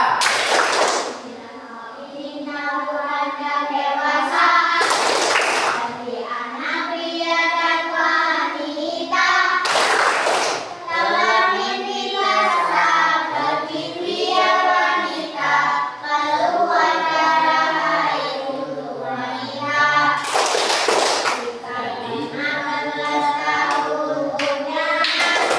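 A group of adults performs the 'tepuk tanda dewasa' rhythmic clapping game, sharp bursts of unison clapping at intervals between loud chanted and sung phrases, close and energetic, in a classroom.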